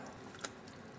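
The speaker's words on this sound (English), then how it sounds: "Just adding 4 cups of water here." Water poured into a pot of sambar with lentils and masala in a kitchen, a soft, steady trickle with one faint splash midway, quiet and close.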